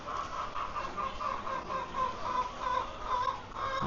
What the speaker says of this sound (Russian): сколько птичек